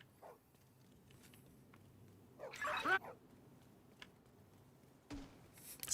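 A puppy in a shooter game lets out a few short yips and whimpers, faint and intermittent against a quiet background.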